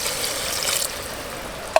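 Water is poured into village-style spicy mutton curry frying in a pan, a short rushing hiss that fades, followed by a sharp clink of a utensil at the end.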